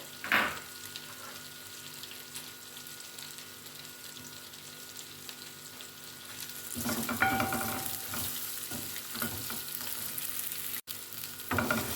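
Fried onions sizzle softly in hot oil for a chicken curry, a quiet steady crackle that swells louder partway through with bursts of stirring and scraping.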